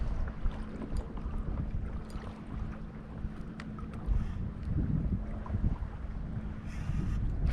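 A kayak turns slowly on open water off Grassy Key, with soft water wash and low rumbling wind buffeting the microphone throughout, fairly faint and steady with occasional gusts.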